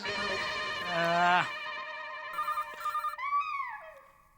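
A telephone rings in a lively household comedy scene, a bright warbling electronic ringtone repeating in short bursts, with a voice speaking over part of it.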